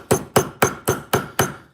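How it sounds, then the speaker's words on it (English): A nylon or rawhide mallet striking the edge of a metal sheet during fold forming, six evenly spaced, fairly dull thuds close by, with no talk. "I'm gonna just kind of hammer right there on the edge. Now, by doing this with a nylon or a rawhide mallet, I'm not leaving any marks really."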